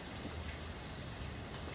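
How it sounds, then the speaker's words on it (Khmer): Heavy rain falls as a dense, steady hiss, quiet and even throughout a brief moment with no voices. "ភ្លៀងខ្លាំងណាស់"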